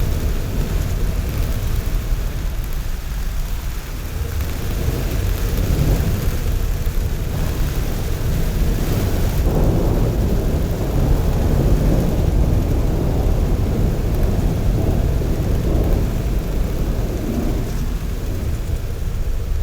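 Heavy rain pours down in a dense, continuous roar while deep rolling thunder swells and fades beneath it, with no voices.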